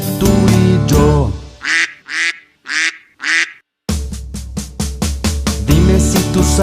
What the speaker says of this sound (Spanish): Dime si tú sabes cómo hace el pato.